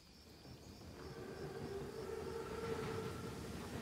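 An armored train in Call of Duty WW2 pulls in with a rising rumble of wheels and cars, and steady whistle-like tones ride over the growing roar.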